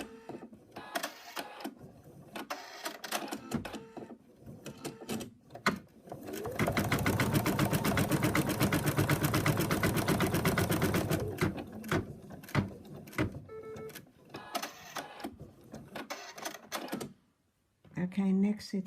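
An embroidery machine stitches a stuffed moose arm in the hoop, a steady, rapid mechanical whirr lasting several seconds, with someone talking before and after and small handling clatter around it.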